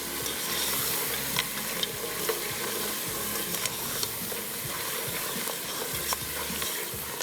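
Masala for kunna paya fried hard in a pot: a dense, steady sizzle with rhythmic stirring scrapes, close and loud, with no voices.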